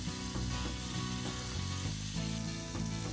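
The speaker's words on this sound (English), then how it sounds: "with only this much oil, I'll fry the fish and make the fish curry also" Fish pieces frying in a small amount of mustard oil in a kadai, a steady close crackling sizzle throughout with occasional soft stirring scrapes.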